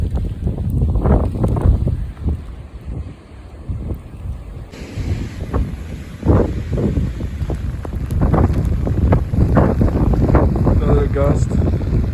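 Strong gusts of wind roar during a snowstorm outside a chicken barn, a continuous broadband rush that swells louder partway through, with someone talking briefly over it.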